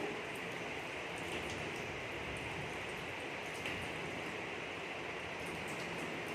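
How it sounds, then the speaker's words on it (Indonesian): Tap water runs steadily during surgical handwashing, a continuous, even hiss of flowing water at low level with no talk. "Biarkan air mengalir pada siku."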